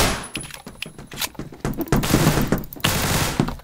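Rapid automatic gunfire fired by an auto clicker in the Phantom Forces shooter game, a dense run of sharp repeated shots with brief gaps, loud and close throughout.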